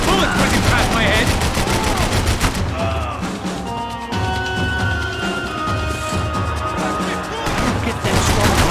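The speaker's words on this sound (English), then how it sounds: "I can't concentrate with bullets whizzing past my head" Gunfire with bullets whizzing past in Max Payne 3, heard as dense, continuous shooting and loud, close impacts throughout, with characters shouting over the action.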